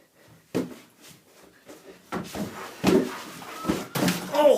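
Several doors bang and thump during a comedic workout, a run of sharp knocks and slams of varying loudness spread irregularly over a few seconds, with shouts and exclamations mixed in.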